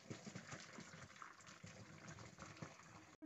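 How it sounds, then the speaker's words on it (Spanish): Water from cooked zucchini pours out in a steady, close gushing stream for a few seconds, then stops abruptly. "Y escurrimos los calabacines."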